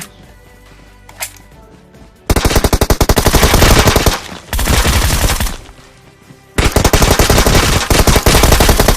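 Groza assault rifle in an online shooter game firing long, rapid automatic bursts, loud and close, with three sustained volleys separated by short pauses.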